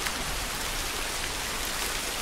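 Steady rain from The Last of Us video game, a constant loud hiss of drops on surfaces filling the whole scene without a break and with no voices.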